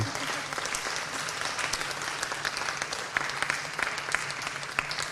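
Steady applause from a seated audience after a panel discussion on design and data, dense clapping filling the room for several seconds with a few sharper claps standing out near the end, no voices over it.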